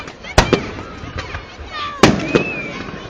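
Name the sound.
fireworks exploding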